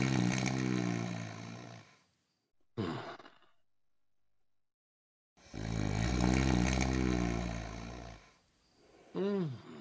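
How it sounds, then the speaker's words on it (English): A man snores loudly during a radio comedy, with long rasping breaths broken by a silent pause and then a short gasping snort, heard without talk. "There must be something that will put a stop to that hideous snoring."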